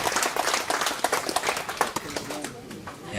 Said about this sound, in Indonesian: Mari kita tepuk tangan untuk Tuhan.